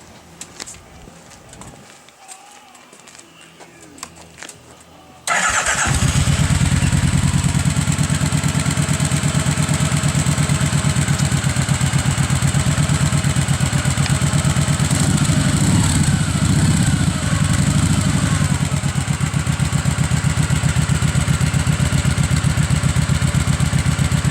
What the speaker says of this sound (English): let's go ahead and start this puppy up and figure out what it sounds like